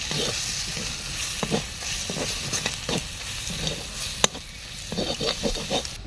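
Ground cumin, coriander, chili and turmeric fry in a pan for ghugni, a constant loud sizzle broken by repeated scraping strokes of a spatula stirring the spices, close and without speech.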